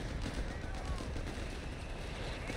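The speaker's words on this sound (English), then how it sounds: "Artillery strike from above." An artillery strike with gunfire in Company of Heroes 3, a dense rumbling wash of distant explosions and shots under faint talk.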